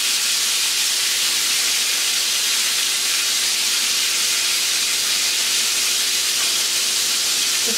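Orange chicken pieces frying in a pan as they are flipped, giving a constant loud broadband sizzle and hiss that stays steady throughout with no talking.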